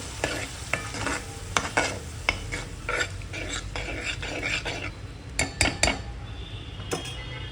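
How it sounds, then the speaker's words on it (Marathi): Taro leaf vegetable is stirred into fried masala in a pan: repeated close utensil scrapes and metallic clinks over a continuous sizzle, with busy, irregular stirring throughout. "आता आपण ह्याच्यामध्ये भाजी आपली सोडायची आहे, एकत्र करायचं आहे।"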